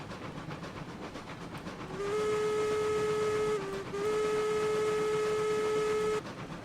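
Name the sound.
steam locomotive whistle in RailRoads Online video game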